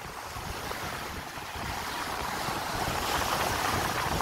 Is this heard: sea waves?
yes